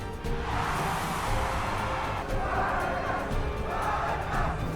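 A large arena crowd roars and cheers continuously, a broad steady wash of many voices swelling in waves, distant and even throughout with no single voice standing out.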